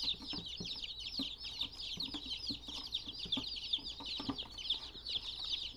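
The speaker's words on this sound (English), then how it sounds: "there's a few that are battling with the chickens on the inside of the box" Young chickens inside a box cheep and cluck continuously in a busy, overlapping chorus, with scratching and bumping sounds from the box; fairly close but quiet.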